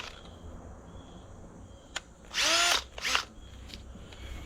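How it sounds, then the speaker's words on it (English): A battery power drill whirs in a quiet workshop during vehicle running-gear repair, two short bursts about a second apart with a rising, slowing whine, then near silence with small clicks. "We'll slow the drill down."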